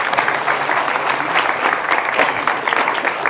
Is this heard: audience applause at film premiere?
yes